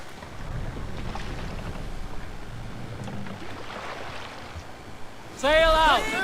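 Wind and water rush steadily around a Viking longship under sail in Assassin's Creed Valhalla, a broad wash of noise beneath voices, with a loud rising horn-like call at the end.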